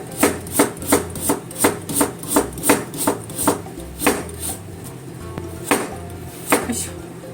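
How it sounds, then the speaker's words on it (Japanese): Kitchen knife thinly slicing carrots on a cutting board: a steady series of about twenty crisp, close chopping taps in a fairly even rhythm, loud and clear with no talking. "そして人参も薄切りします。"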